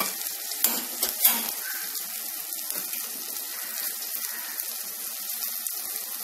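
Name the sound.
onion and tomato sizzling in pan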